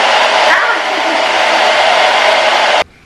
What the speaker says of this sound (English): now I just use a hairdryer on the cold setting